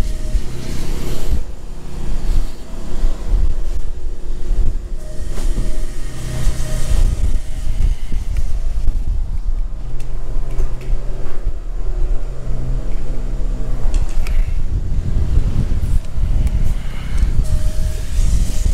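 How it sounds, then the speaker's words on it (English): Gusty wind on a warm day at a farm field during soybean planting, roaring and buffeting steadily beside the low rumble of a tractor engine, with no voices. "80 degrees and windy today."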